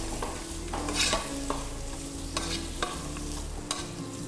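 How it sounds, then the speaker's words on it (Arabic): Shrimp sauté in a pan with a crisp, steady sizzle while a utensil scrapes and stirs in repeated strokes, sharp clatters standing out at irregular intervals; no talking. "وهنزل بالجمبري اللحم. هياخد بس دقيقتين تشويح"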